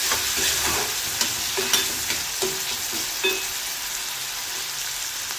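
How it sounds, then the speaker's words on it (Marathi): Onion, green chili and tomato sautéed in a pan, a steady close sizzle with a spoon stirring and scraping at intervals throughout. "मस्त परतून घ्यायचा आहे"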